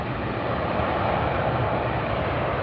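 Alaska Airlines Boeing 737 MAX 8 arriving at LAX, a broad steady jet engine roar heard from nearby, continuous and loud without voices.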